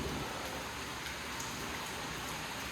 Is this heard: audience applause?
no